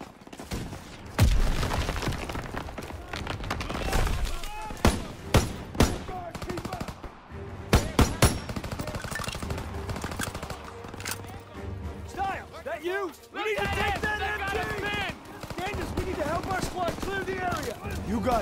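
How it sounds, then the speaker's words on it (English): Call of Duty: WWII gunfire: bursts of automatic shots and sharp single cracks ring out repeatedly, with rumbling booms, background battle noise, and voices throughout. "Gunfire! We must be near our guys."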